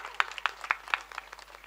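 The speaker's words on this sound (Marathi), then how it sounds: "आता तुम्ही ना सर्वांसाठी एकदा टाळ्या वाजून घ्या" Audience at a Marathi kirtan devotional gathering clapping in a loose, fairly steady rhythm, a modest crowd of sharp hand claps at moderate distance, with no talk over it.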